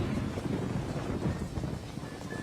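Rain falls steadily with a low rolling rumble of thunder beneath it, a dense, even wash of sound with no voices.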